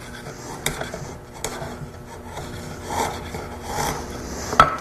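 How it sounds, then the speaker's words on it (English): Wood stock ends being cleaned up with a chisel or block plane after router joinery, producing irregular rasping scrapes and rubbing strokes at close range, with a sharper knock near the end. "To clean up the ends of the stock, use a chisel or block plate."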